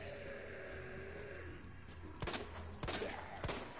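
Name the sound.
gunfire in Resident Evil 2 Remake video game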